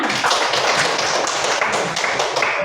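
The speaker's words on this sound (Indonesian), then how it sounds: "Iya, tepuk tangan lagi." A group of teacher-training students clap their hands together in a close, loud, rhythmic burst of repeated claps.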